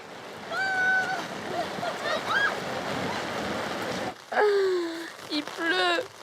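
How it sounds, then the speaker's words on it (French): Steady rain pours down outdoors near a beach, a dense continuous hiss that stops abruptly near the end while a voice talks over it. "Il pleut."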